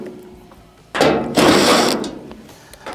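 A power driver backing quarter-inch screws out of the back panel of a clothes dryer, two bursts of whirring, ratcheting motor noise close by with a pause between them.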